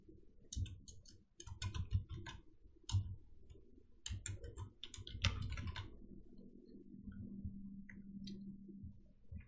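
Someone types on a computer keyboard while entering text in PowerPoint, making soft, irregular clicking bursts over a faint low hum. Nobody speaks.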